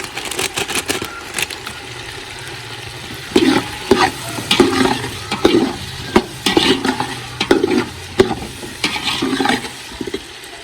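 Onion, garlic and ginger frying with biryani masala for matar pulao, a close sizzle broken by repeated scraping stirs of a spoon in the pan, coming in rhythmic bursts through the second half.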